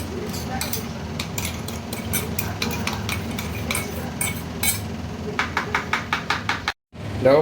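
Ginger-garlic paste and green chilli paste being stirred into a raw shrimp mixture, with a spoon scraping and knocking against the bowl in a quick regular rhythm near the end, while a voice talks.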